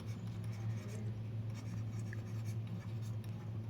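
A pen writing on paper while working a Class 7 maths problem, a soft, continuous scratching with faint strokes, quiet and steady over a low background hum, with no talking.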